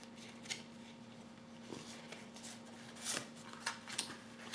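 Tarot cards picked up and set down one by one, soft papery slides and light taps in a quiet room, several small bursts spread across the moment with a faint steady hum behind.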